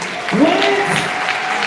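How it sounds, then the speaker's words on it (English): A conference audience at a healthcare event in Houston breaks into applause, a steady wash of clapping with a voice rising over it. "Give her a round of applause"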